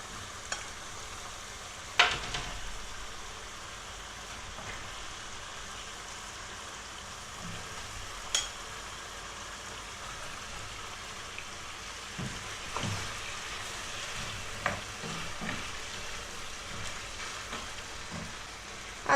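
Rooster meat pieces for ostropel frying in a pan, a steady soft sizzle with occasional stirring clinks and scrapes, close and alone.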